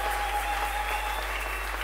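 A church congregation claps together in a steady, dense burst of applause, continuous and fairly loud, with a faint sustained tone running beneath the clapping.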